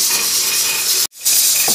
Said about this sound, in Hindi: ये मेरी भिंडी फ्राई हो गई है प्याज के साथ।